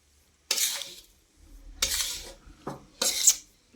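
A spoon scrapes and knocks around inside a metal pot of melting jaggery in three or four separate bursts, with quiet gaps between strokes.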